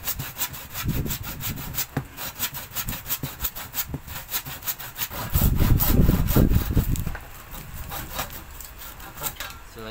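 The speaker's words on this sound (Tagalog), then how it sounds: "Lalagariin na po natin" Steady back-and-forth strokes of a hand saw cutting wood, rhythmic and close, with a louder, denser stretch of sawing midway.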